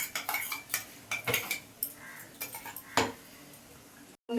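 Chicken with spices being stirred in a pan, with a series of short metallic scrapes and clinks of the spatula against the pan at an uneven rhythm, close and moderately quiet, no talking.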